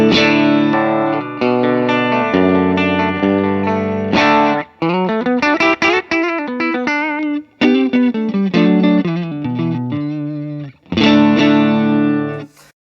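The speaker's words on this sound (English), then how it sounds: "And my clean tone with no compression, no drive sounds like this." A clean electric guitar tone with no compression or drive, played through a Vox AC15 amp and picked up by a Rode NT1 room mic: ringing chords and quick single-note runs, loud and close, with short gaps between phrases.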